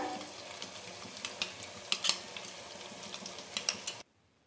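Spices sautéed in oil in a pan over a medium-low flame for a dhaba-style egg and spinach curry: a steady soft sizzle with light scraping stirs and a few sharper clinks, then it cuts to near silence at the end.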